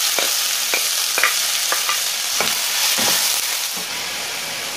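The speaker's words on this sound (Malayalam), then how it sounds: "സവാള മുറിച്ചതും കൂടി ചേർക്കാം." Sliced onion sizzles as it is added to frying chicken masala for chicken piralan, a steady loud crackle of hot oil with several scraping stirs of a spoon in the pan and no voices.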